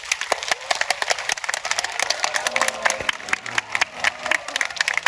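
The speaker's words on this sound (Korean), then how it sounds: "큰 박수로 맞이 부탁드리겠습니다" A cinema audience at a pre-release stage greeting for a film claps to welcome the actors onstage, scattered sharp hand claps with a few cheers and faint voices, growing denser.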